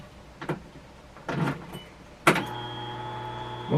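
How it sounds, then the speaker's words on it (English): A few soft clicks and thumps, then a Polaris fuel pump switches on with a steady electric whine, humming evenly at close range until the end. "the pump sounds really strong right now"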